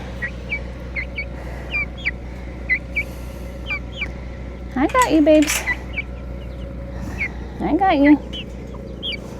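Chickens cluck and squawk on a farm during morning chores, with two louder bursts of close fowl calls standing out over steady low background hum, while someone talks softly nearby.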